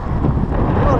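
Strong headwind buffets the microphone in a continuous loud, low rumble on a mountain ride, lasting about a second with no clear voice.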